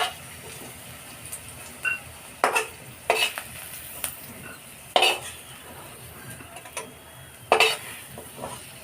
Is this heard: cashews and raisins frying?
yes